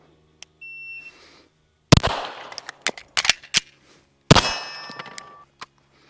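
A handgun fires on a dusty Oklahoma shooting range: a short electronic beep comes first, then loud, close, sharp shots ring out with bright metallic echoes, interspersed with lighter clanks.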